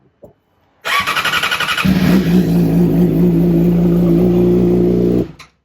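A Yamaha R6 motorcycle engine cranks and fires up after a new ignition lock is fitted, then settles into a loud, steady idle close by, with no talking over it.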